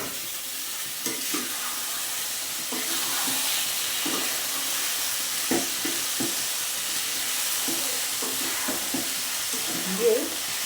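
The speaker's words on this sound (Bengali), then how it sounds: "দিয়ে ভালো করে ওপর নিচ করে আমি মশলাটাকে মাখিয়ে নিই।" Jackfruit and potato pieces with spices are tossed around a pan with scraping stirs over a steady sizzle, the occasional clack of a utensil breaking through.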